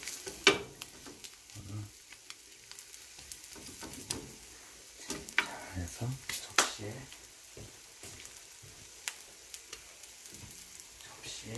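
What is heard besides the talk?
cheese rolled omelette cooking in a pan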